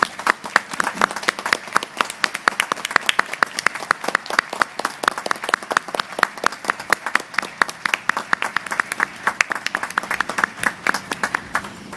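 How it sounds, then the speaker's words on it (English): Crowd applause at a US Navy JAG change-of-command and retirement ceremony, a sustained round of distinct sharp claps from a modest audience, close and loud, continuing steadily for several seconds. "Let's give Dell a big round of applause."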